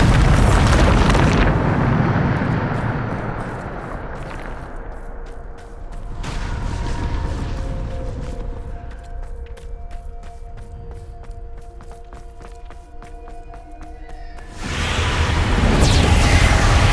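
A loud Bombarda spell explosion from Hogwarts Legacy opens with a heavy roaring blast, then trails into ringing, shimmering magical tones before another powerful burst swells at the end.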